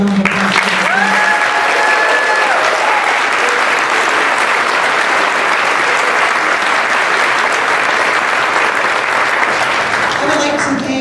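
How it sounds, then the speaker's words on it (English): Dense, sustained audience applause at a spring choral concert, loud and even throughout, with a brief voice heard near the start. "If we could have a round of applause."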